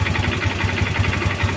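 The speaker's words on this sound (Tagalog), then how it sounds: "ito nga pala yung lagitik na tunog ng ating mga makina ngayon" A motorcycle engine idles with a rapid, even valve ticking tapping over a low steady hum, heard close up and alone.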